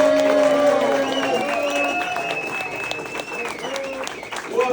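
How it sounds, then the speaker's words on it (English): An audience at a comedy set in the Alano club claps and applauds in a steady, fairly loud wash of sound beneath a voice speaking over a microphone throughout. "start clapping right now. Make some noise for my good friend"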